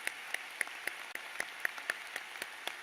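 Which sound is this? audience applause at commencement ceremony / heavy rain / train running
audience applause at commencement ceremony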